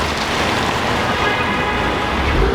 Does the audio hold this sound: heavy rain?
yes